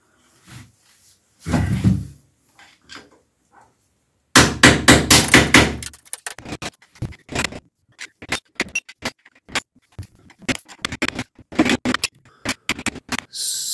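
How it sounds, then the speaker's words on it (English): Tile trim being pried and knocked off the bottom of a bathroom wall during a renovation of an old Portuguese house, a sharp scrape then a string of close, irregular taps, knocks and cracks. "Now, I gotta take this tile trim off the bottom."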